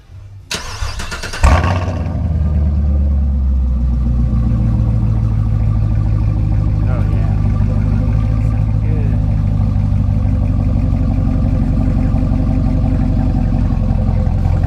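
A Camaro SS V8 with an MBRP Race quad exhaust cranks and fires up with a sharp burst, then settles into a loud, deep, rumbling idle that carries on steadily.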